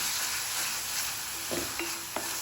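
Fenugreek leaves fry with paneer in oil in a pan, giving a steady, dense sizzle throughout, with a few soft clinks of a spoon stirring near the end.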